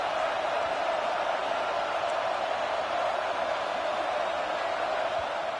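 A football stadium crowd in a college game between Alabama and Georgia roars on third down, a dense, steady wash of distant noise holding constant throughout.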